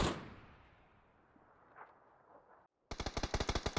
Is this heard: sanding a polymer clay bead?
no